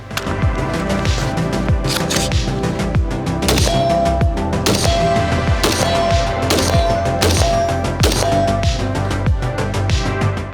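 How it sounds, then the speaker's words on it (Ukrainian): Rapid shots from a Christensen Arms AR-15 rifle crack out loud and close in quick, uneven bursts, punctuated by brief metallic pings, with no talking. "Зараз декілька пострілів, щоб зрозуміти, що собою уявляє цей карабін."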